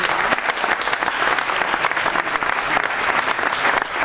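An awards ceremony audience in Aveyron breaks into vigorous, continuous applause, many hands clapping close by in a bright, dense roar without any speech over it.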